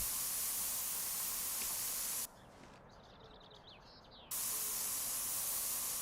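A car quarter panel spray-painted in Spray Paint Simulator: a loud steady hiss of spray that cuts out for about two seconds in the middle, then resumes just as strongly, with no voices.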